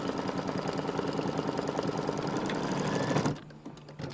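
An embroidery machine stitches appliqué pieces for a haunted house design, a fast, steady mechanical chatter of the needle close by that runs for about three seconds and then cuts off, leaving a quiet hum.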